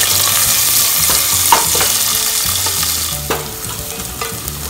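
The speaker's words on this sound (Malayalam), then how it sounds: "നീളത്തിൽ അരിഞ്ഞ് വെച്ച സവാള ഇട്ട് കൊടുക്കാം" Garlic and a small, lengthwise-sliced onion fry in hot oil, giving a loud, continuous sizzle broken by occasional clinks and scrapes of stirring, with no talking.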